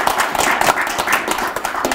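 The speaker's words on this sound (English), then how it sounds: "And I need a big round of applause." Lively applause from a house-concert audience at a folk music evening, dense, close clapping with some voices mixed in, steady across the short span.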